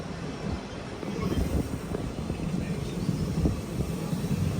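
Kanchanjunga Express, running from Haflong via Lumding, pulling into Guwahati railway station, with a steady low rumble of rolling wheels and carriages under a continuous broadband hiss.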